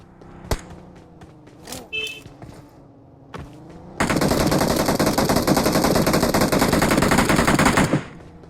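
PUBG Mobile squad match gunfire: a few isolated shots and clicks, then about four seconds of loud, continuous automatic fire up close before it stops abruptly.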